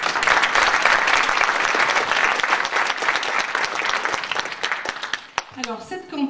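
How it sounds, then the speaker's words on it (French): Dense, loud applause from a seated audience at a French event against sexism, sustained for several seconds before thinning out as a voice begins speaking at the end. "je vous demande de les applaudir"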